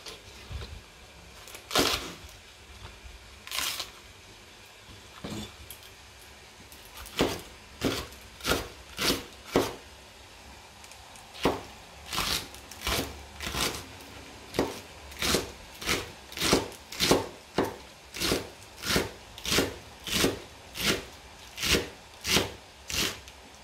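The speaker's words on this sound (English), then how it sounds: "Here we will roughly chop the green onions so that we have good sized pieces once they are sauteed." A knife roughly chopping green onions on a board: a few scattered cuts at first, then a steady run of evenly spaced, crisp, close chops with no talking.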